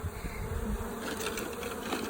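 Honey bees at a hive give off a close, steady buzzing hum that carries on without a break and with no talking.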